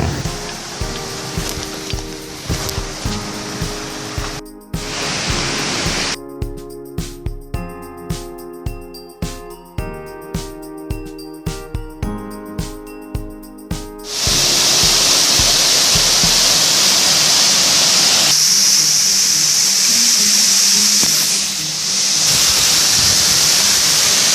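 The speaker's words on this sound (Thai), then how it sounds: "ก็จะพบกับน้ำตกต่างๆ ตลอดทาง" A forest waterfall at Phu Kradueng in Loei, Thailand, gives a steady broadband rush of falling water. It thins to a tinkling patter in places, then swells to a loud, continuous roar over the last stretch, with no voices.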